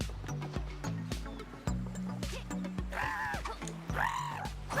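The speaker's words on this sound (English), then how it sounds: "That bird is very angry." Angry bird squawking in the Super Lucky's Tale video game, several harsh rising squawks near the end over looping game music with busy percussive sound effects.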